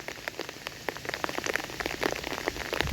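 Steady rain pattering densely on a surface outdoors, a continuous hiss of drops with sharper individual hits scattered throughout, fairly close and gradually getting slightly louder, with no voices.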